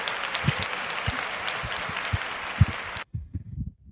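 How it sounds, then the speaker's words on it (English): Audience at a live comics event applauding steadily for about three seconds, a dense patter of clapping that stops abruptly, leaving a few scattered claps and faint voices. "give a round of applause"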